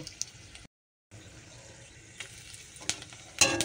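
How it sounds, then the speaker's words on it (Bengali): Whole cardamom pods, cinnamon and cloves fry in hot oil in a home kitchen, giving a steady close sizzle with crackling pops and spoon clatter, briefly cut off before resuming. "এই দেখো তেলের মধ্যে দিয়ে দিচ্ছি এই যে গোটা মশলা, 3টে এলাচ আর তোমার দারচিনি আর"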